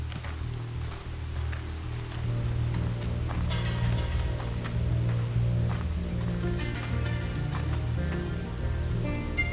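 Steady rainfall in the Xenoblade Chronicles X video game, a continuous wash of drops pattering on surfaces alongside a low ambient game soundscape, moderately loud and unbroken throughout with no talk.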